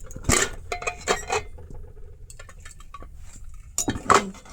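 A pressure cooker, after cooking chickpeas and bamboo shoots, being handled with metallic clinks and clatters of the lid and pot, in a cluster of knocks, a quieter stretch, then a couple of sharp clanks.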